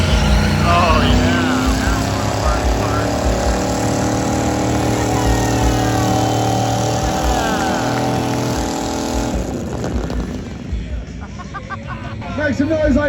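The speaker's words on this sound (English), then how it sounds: "Went like 10 feet from the entrance to do a burnout." Big Block Barbie Car, a show car at SEMA 2025, revving hard for a burnout, a loud sustained engine roar with crowd noise underneath that drops off abruptly near the end.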